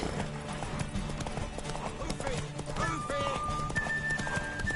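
Horse hooves clip-clop at a steady gallop amid busy Witcher 3 game sound effects and music, with a horse whinnying partway through and voices speaking over it.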